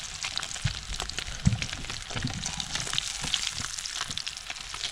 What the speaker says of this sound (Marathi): एकदम आपण कडक करणार आहोत फ्राय झाले काढून घेऊ